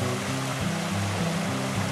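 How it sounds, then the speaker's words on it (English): A pump-fed waterfall spills into a garden fish pond, giving a continuous close splashing and gurgling rush of water with slight pulsing in the flow. "the pump's running and the waterfall's doing well and aerating the water"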